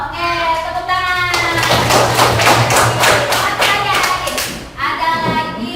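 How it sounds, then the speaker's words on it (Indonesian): A class of primary-school children claps hands together in a classroom, a dense burst of claps lasting several seconds between stretches of a teacher and children talking. "Oke, tepuk tangan."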